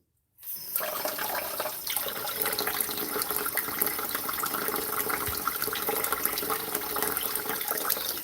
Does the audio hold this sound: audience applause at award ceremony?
no